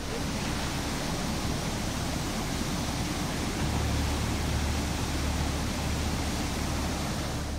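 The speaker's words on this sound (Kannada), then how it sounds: "ರಾಕೆಟ್ ವೇಗದಲ್ಲಿ ನುಗ್ಗುತ್ತಿರುವ ನೀರು ಡ್ಯಾಂನ ಕ್ರಸ್ಟ್ ಗೇಟ್ ಬಳಿ ಭೋರ್ಗರೆತ" Water roaring through a crest gate of the TB Dam at Koppal, a loud, dense, unbroken rushing wash with a deep rumble thickening partway through, with no voices.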